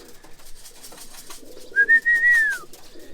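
Roller pigeons gathered in a kit box give a soft, low coo, followed by a brief clear whistle-like note near the end, fairly close and with no talking.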